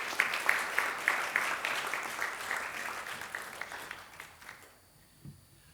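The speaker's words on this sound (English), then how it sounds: "Again, a round of applause" An audience at a good governance business event applauds after a speech, a fairly distant, moderately quiet clapping with a few sharp claps standing out, thinning and fading to near silence by the end.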